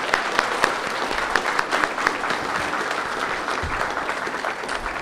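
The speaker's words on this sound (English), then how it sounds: "let's give these winners one more round of applause." An audience at a county spelling bee for fifth and sixth graders claps for the winners, dense steady applause with sharp individual claps standing out, continuing for several seconds without speech.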